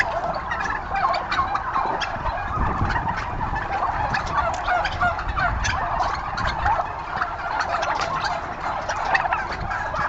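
Turkeys gobble repeatedly in rapid, rattling bursts, close by and fairly loud, with several birds calling over one another throughout.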